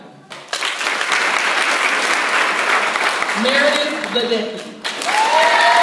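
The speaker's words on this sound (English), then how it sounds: "Please give a round of applause after I say their names" A nursing class graduation audience bursts into sustained applause for college faculty, loud and dense, while a speaker reads out names over it and a brief lull comes before clapping swells again.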